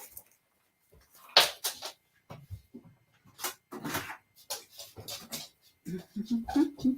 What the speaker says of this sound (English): I think my dog just wants to go outside.